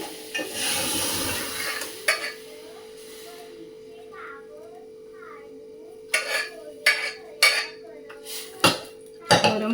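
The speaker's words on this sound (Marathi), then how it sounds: "गरम फोडणी दिलंय मस्त" Hot tempering sizzles in a pan on a home kitchen stove, a soft fizzing hiss under someone talking, followed by several sharp clinks and clatters of metal utensils against the pan.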